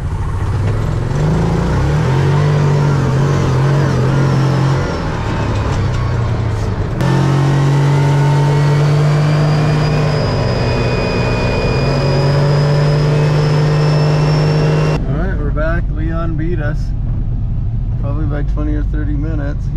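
A Jeep drives down the road at highway speed after its tires are aired back up, a loud, steady engine drone with tire and wind roar, shifting pitch as it changes gear and fading in a brief rough cut.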